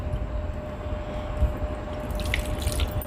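Fresh tap water runs steadily while small desi puti fish are rinsed for miniature cooking, a constant close rushing splash with a few faint drips and clinks near the end.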